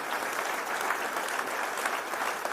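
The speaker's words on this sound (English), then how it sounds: "please give them a round of applause" A crowd at a university event introducing a new men's basketball coach applauds steadily, a faint, even roar of many hands with no pauses.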